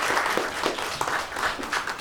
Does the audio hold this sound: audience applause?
yes